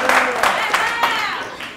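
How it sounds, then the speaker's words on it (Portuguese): Clapping for a participant during a waste-management training session, scattered claps mixed with voices talking over it, close and fairly loud. "Uma salva de palmas para o Léo"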